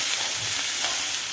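Chopped pea greens go into hot oil in a pan and are stirred, giving a loud, dense sizzle with scraping close up, no voices.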